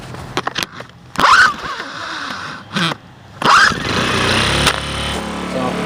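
An Earthquake IG800W inverter generator is pull-started by hand, with two sharp recoil-cord pulls a couple of seconds apart before the small engine catches and settles into a steady running hum close by.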